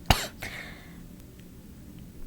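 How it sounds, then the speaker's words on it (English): A man gives one sharp, close cough, then a second rougher throat-clearing cough, followed by quiet room tone. "he starts coughing in a really concerning way"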